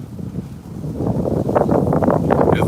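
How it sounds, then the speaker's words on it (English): Wind blowing outdoors in Southern California, a steady broadband rush that builds after the first second into gusty, fluttering buffeting against the microphone, continuous and fairly loud with no talk. "It's a little windy right now"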